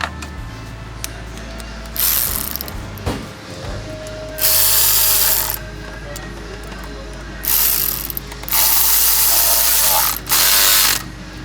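A quarter-inch ratchet clicks in several bursts of rapid pawl ratcheting as it tightens shallow triple-square 10 mm bolts on the oil cooler of a 2014 Volkswagen Tiguan, loud and close, with pauses between runs.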